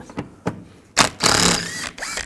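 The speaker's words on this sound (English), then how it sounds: "we're going to take that screw out. Use a T30 socket." A T30 socket on a ratchet backs out a screw holding the rear reflector of a 2010-2017 Chevrolet Equinox, giving a few quick clicks and then longer bursts of rapid ratcheting, close and fairly loud.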